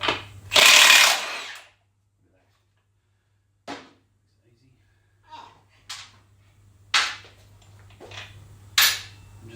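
A power tool loosens the rear axle on a Yamaha YZF1000 Thunderace motorcycle: one loud burst near the start, then several short, sharp ratcheting hits spaced apart over a faint low hum.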